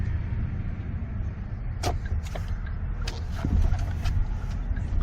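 A 2013 Kia Optima Hybrid rolls at low speed, about 10 mph, heard from inside the cabin as a low steady road rumble with a few faint clicks and knocks.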